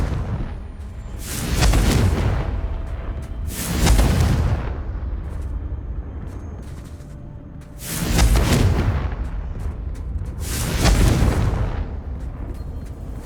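Confringo fire-spell explosions in the video game Hogwarts Legacy, four loud booming blasts spaced two to four seconds apart, each bursting then fading into a rumbling tail.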